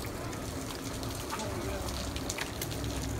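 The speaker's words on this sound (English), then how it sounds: "Yeah, it's raining out here now." Rain falls outdoors in a steady, fairly quiet hiss with scattered sharp droplet ticks, heard alone throughout.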